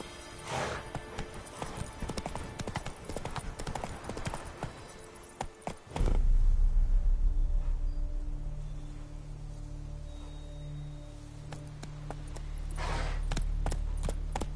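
Horse hooves clip-clopping in The Witcher 3, a steady rhythmic trot that starts with a louder burst and settles into even hoofbeats, with a faint voice briefly heard early on.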